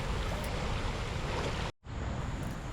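Steady broadband rush of water pouring out of the end of a trout hatchery to form a creek, continuous and fairly close, with a brief dropout near the middle before the flow resumes.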